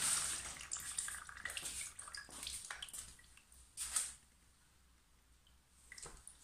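Hot engine oil drains slowly from a motorcycle during a clutch plate change, a faint, uneven run of drips and liquid trickles with soft splashes, quiet and alone.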